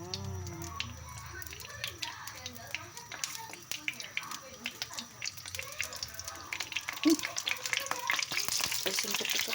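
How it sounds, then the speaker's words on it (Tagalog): Eggplant fries in a little oil with a soft, continuous sizzle and scattered crackles, accompanied by occasional stirring and a voice talking over it. "piprituin ko po muna yung talong. Kunti lang lalagay kong mantika."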